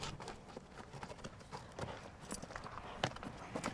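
A retired racehorse's hooves clip-clop steadily on a hard surface, a continuous rhythmic patter against a noisy outdoor background.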